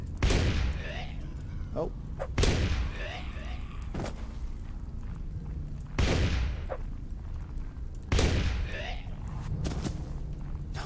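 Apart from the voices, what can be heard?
pistol gunfire in video game, The Reckoning Warband mod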